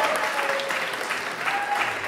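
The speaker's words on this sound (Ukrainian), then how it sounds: "давайте ще раз бурхливі оплески" Wedding guests at a reception give a steady round of applause, many hands clapping together in a dense, even patter for two seconds, with faint room murmur beneath it.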